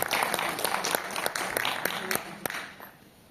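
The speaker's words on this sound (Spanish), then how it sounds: "Fuerte los aplausos, por favor" Audience applause at a law lecture greets a doctor as he is invited up. Moderate clapping with some distinct claps tapers off over a few seconds, and a voice is faintly present.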